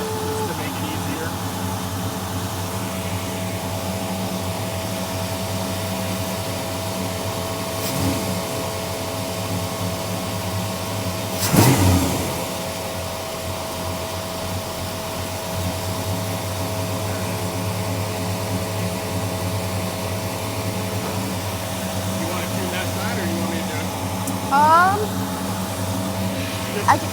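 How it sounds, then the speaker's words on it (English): A 1957 Chevy V8 with dual carburetors idles steadily with its revs raised, a constant droning hum with a brief rise partway through, while people talk nearby. "Run the idle up a little bit just to make it easier."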